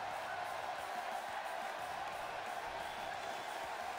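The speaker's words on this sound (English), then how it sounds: "Did you hear the crowd once his music played?" A wrestling arena crowd cheering as a wrestler's entrance music plays, a steady, distant roar of voices with whoops, faint and continuous throughout.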